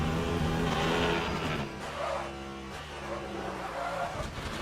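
Race car in Le Mans Ultimate at Barcelona braking too late, its engine droning loudly and steadily with tire noise and a skidding scrub as it slows, continuous throughout.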